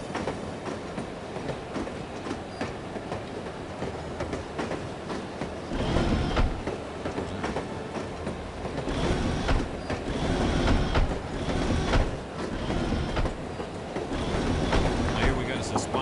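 A moving train in the spy game The Operative: No One Lives Forever, a continuous rumbling rail drone with rhythmic clacking surges, heard under muffled talk.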